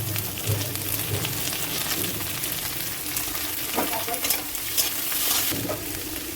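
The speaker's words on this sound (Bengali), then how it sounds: "মাছটা অনেকটা ভাজা হয়ে গেছে" Prawns frying with chopped onions in hot oil in a wok, a steady crackling sizzle with intermittent scraping stirs, close and continuous.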